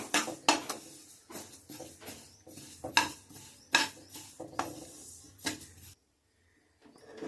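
Sesame seeds dry-roast in a pan without oil for Andhra gongura sesame chutney, with a utensil scraping and clinking against the metal in repeated steady strokes and a brief pause near the end.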